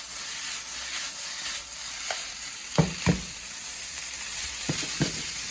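Chicken chowmein noodles stir-fried and tossed in a hot pan, a constant close hiss of sizzling oil broken by several sharp scrapes and clanks of stirring, with no voices.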